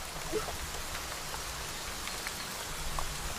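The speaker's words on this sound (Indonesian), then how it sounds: "Hujan lagi." Light drizzle falls steadily outdoors, a soft, even hiss of fine raindrops with a few faint individual drops ticking, no voices present.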